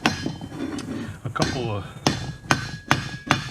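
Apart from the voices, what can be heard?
hammer hitting a rod on a Coleman 335 lantern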